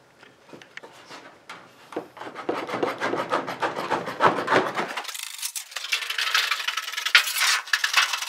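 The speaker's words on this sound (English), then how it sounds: "Now that we have our star marked, we're going to cut our end cap out." Metal end cap being cut out of sheet metal, a steady rasping, scraping run of close cuts that turns into a brighter, hissing grind partway through.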